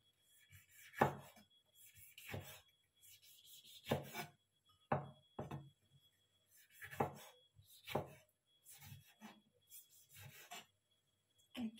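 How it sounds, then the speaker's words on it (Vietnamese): Tomatoes being chopped into small pieces with a kitchen knife on a board, a series of separate close, crisp cuts in irregular bursts with quiet gaps between, no talking. "Cà chua mình sắc nhỏ nhỏ nha."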